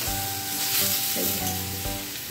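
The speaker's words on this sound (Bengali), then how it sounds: "এইবার এর মধ্যে আমি টমেটোগুলো দিয়ে দেব, দিয়ে ভাজবো।" Tomatoes frying with onions, salt and turmeric in a pan, a loud close sizzle with steady crackle and faint tonal hum underneath, no talk.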